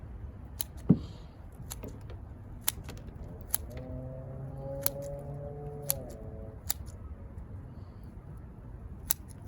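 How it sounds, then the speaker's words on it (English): Scissors snipping the small roots at the base of a dwarf jade (Portulacaria afra) during repotting: a series of sharp, isolated clicks spaced about a second apart, close and fairly quiet, with a short humming tone in the middle. "cut these small ones right here."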